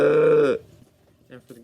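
A human voice imitates a sheep with one loud, nasal, wavering bleat lasting about half a second, followed by quiet breathy vocal sounds.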